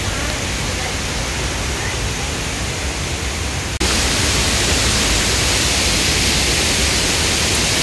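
A strong river current rushes loudly and steadily, a dense broadband roar close by that jumps up in level midway and then holds constant.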